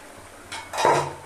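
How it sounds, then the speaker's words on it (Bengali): A metal lid lifted off a cooking pot of prawn and banana flower ghonto, a short scrape followed by a ringing metallic clank, close and brief. "তো 5 মিনিট পর ঢাকনাটাকে তুলে নিব"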